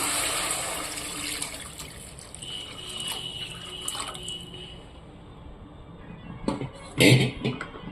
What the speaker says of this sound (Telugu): ఇప్పుడైతే నేను వాటర్ వేస్తున్నా